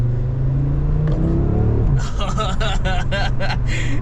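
An Audi RS3 hatchback in sport mode with its exhaust valves open gives a loud, steady engine rumble. Someone talks over it, and from midway his voice rises in pitch over the engine.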